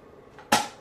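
A single sharp pop from a paper blast party popper at a birthday celebration, a sudden close crack that decays quickly over a quiet background.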